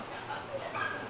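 A dog gives a short, thin whimper mixed with a faint yip, brief and fairly close, lasting only about a second.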